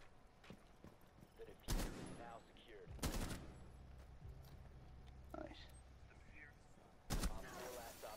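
Sharp gunshots ring out in Rainbow Six Siege, a few separate loud bursts spaced apart, with quieter game sounds and occasional talk between them.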